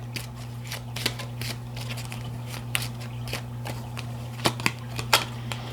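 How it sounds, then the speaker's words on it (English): Kipper deck cards shuffled and drawn, a series of crisp flicks and snaps at irregular intervals over a steady low electrical hum, close and fairly quiet. "So I'm going to go ahead and get 3 cards. This is the Kipper deck."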